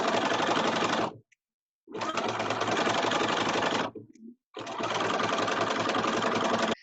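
A sewing machine stitches a seam on a fabric face mask in three loud, close, continuous runs of rapid mechanical whirring, each a couple of seconds long, separated by brief stops.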